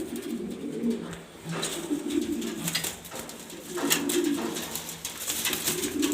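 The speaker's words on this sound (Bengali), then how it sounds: "এটা হলো 20 সালের ইম্পোর্টেন্ট নর কবুতর" An imported male pigeon coos repeatedly in a pigeon loft, with low rolling calls recurring every second or so, close and clear, alongside faint wing flutters and loft noise.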